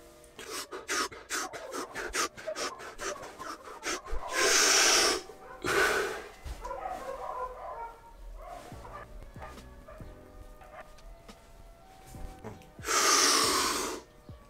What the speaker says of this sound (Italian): quindi altre 10 respirazioni alla Wim Hof e poi si butta tutto fuori